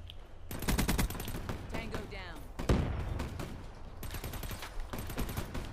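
A Sten submachine gun firing in Call of Duty Black Ops 3, with long rapid automatic bursts filling most of the clip and a brief pause midway, with a voice talking underneath.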